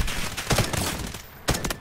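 Automatic gunfire in the shooter game Delta Force: rapid bursts of loud, close shots, a dense volley followed by a pause and another short burst.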